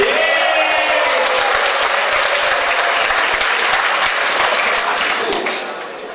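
Sustained applause from a seminar audience fills the hall, a thick, even wash of many hands clapping at once that slowly tapers off near the end.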